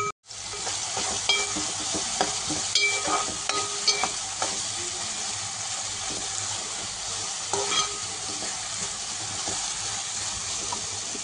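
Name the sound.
chopped capsicum frying and being stirred for pav bhaji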